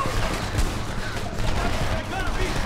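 Hip-fired gunfire in the video game Homefront, a dense sustained rattle of rapid shots and battle noise from start to finish, with a voice mixed in.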